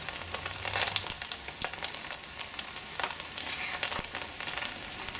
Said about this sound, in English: the sound shows that indicates that it is being cooked.